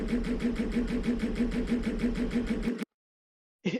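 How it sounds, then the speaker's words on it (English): A bike engine warms up and settles into a steady, pulsing hum, loud and close, with no talk; it cuts out abruptly near the end before a brief burst returns. "you hear the engine beginning to warm up a little bit"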